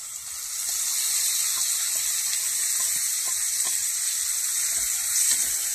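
Browned onions and a paste of ground flat beans sizzle loudly in a frying pan, a dense, steady hiss that swells in after a quiet start and holds evenly to the end.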